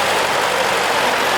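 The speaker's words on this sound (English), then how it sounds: "This is a Yeoman of England, nicely restored tractor, this one" Restored Yeoman of England tractor engine running at a show, a loud, steady, close mechanical drone that fills the whole moment without a break.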